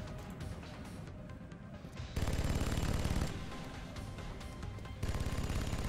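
Sustained automatic gunfire in the XCOM Long War strategy game, suppressing fire in dense rapid bursts that grow louder midway, continuous and close with no talking.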